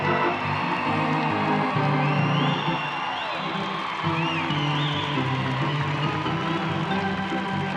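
A crowd in Freedom Hall cheers and whoops at a Tennessee walking horse world championship, a loud, sustained roar with rising shouts and whistles throughout.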